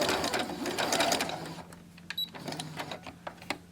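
A sewing machine stitches a few quick reverse and forward passes at the end of a piece of fabric. A dense, fast mechanical whirr for about a second and a half gives way to quieter, sparser clicking and handling noise.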